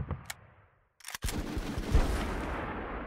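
Gunfire in the Full Spectrum Warrior video game, with a burst of close sharp shots after a quiet stretch, then a dense rumbling wash of firing and battle noise.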